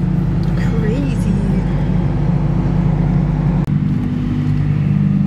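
A Lamborghini supercar rumbles away at a car show event, its engine giving a steady, loud low drone that drops off abruptly near the end.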